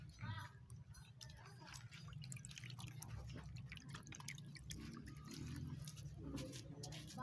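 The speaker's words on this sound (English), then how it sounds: "So I'm about to wash my hands now." Water dripping and pattering irregularly during handwashing in an African village, with faint background voices.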